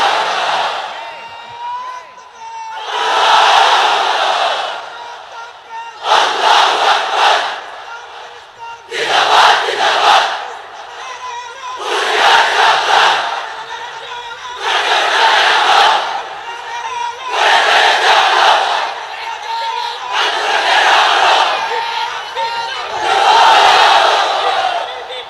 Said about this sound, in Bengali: এবার সবাই মিলে 3টা, এক একটা তাকবীরে যাতে এই প্যান্ডেল কেঁপে ওঠে